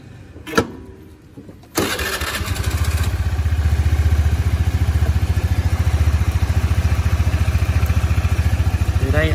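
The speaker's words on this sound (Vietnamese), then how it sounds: "Đây mình nổ máy cho bạn xem nha." A 2010 Honda Air Blade scooter that stumbles on the throttle because of a faulty spark plug cap. After a brief click the engine catches and settles into a steady, close, evenly pulsing idle that carries on to the end.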